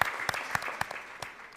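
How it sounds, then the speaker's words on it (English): Audience at an awards ceremony gives a short burst of applause, several distinct claps standing out over a softer patter that fades quickly, heard from a moderate distance. "Please, can we give him another round of applause?"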